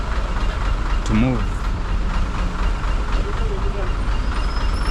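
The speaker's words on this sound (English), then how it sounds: "you can hear the sound of the engine has changed, meaning the driver is prepping" Heavy vehicle engines rumble steadily at a busy Nairobi traffic junction, a loud continuous low drone with a brief horn-like tone, while a person talks over it.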